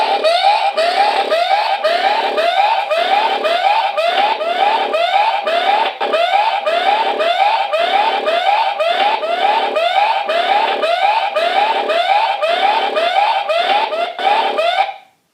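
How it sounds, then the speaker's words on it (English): A loud, piercing electronic alarm siren from a wireless security camera wails in a steady repeating pattern of rising tones, continuous and close, then cuts off abruptly at the end. "That's what the siren sounds like when the alarm goes off."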